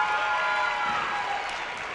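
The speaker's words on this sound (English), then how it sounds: "Let's give one last round of applause to these two young ladies" Sustained crowd applause at a girls' varsity high school basketball game, steady and dense throughout, a broad wash of clapping with no pauses.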